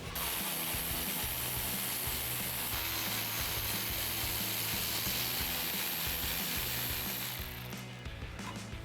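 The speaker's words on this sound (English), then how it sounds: "We'll use our 10mm socket to remove those" A hand ratchet with a 10mm socket clicks steadily while backing out grille bolts on a 2018-2020 Ford F-150. The fast, continuous ratcheting runs close and loud for most of the stretch, then fades near the end.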